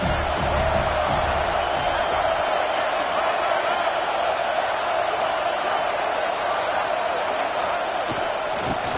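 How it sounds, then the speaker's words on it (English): A football stadium crowd in a college football video game roars and cheers for the defense, a dense, loud, continuous wall of crowd noise held steady from start to finish. "This crowd knows this defense needs them right now."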